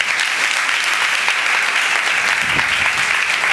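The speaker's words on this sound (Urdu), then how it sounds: "تو ان کے بھی لیے بھی زوردار تالیاں بجیں" Loud, steady applause from an audience at a church Sunday school Easter event, dense clapping that fills the whole moment without a break and with no talk over it.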